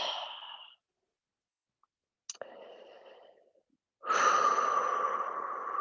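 Deep breathing during a yoga stretch, with slow inhales and exhales in a quiet room, a short breath, a pause, then a longer sustained exhale, close and moderately loud.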